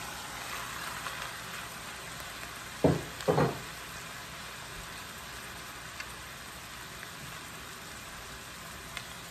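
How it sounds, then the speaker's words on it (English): Moo goo gai pan stir fry with mushrooms sizzling steadily in the pan, a low constant frying hiss with a couple of brief louder clatters near the middle as the mushrooms go in. "Add the mushrooms in."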